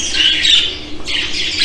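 Show jumbo budgerigars squawking at close range, harsh loud bursts of bird calls overlapping continuously, with no talking.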